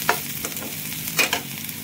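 Chopped onions fry in a pan for a home-style bhujia, a steady gentle sizzle broken by a few close scraping stirs of a spoon, with no talk.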